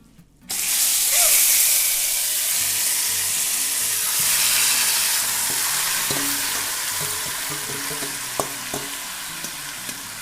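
Chicken hits hot oil and caramelized sugar in a pot, bursting into loud, steady sizzling and frying with occasional stirring clinks, close up and with no talking.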